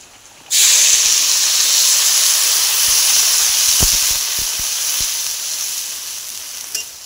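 Water hits a hot pan of sautéed vegetables and bursts into a loud, sudden hissing sizzle that holds steady, easing slightly over several seconds, with a few faint clinks underneath.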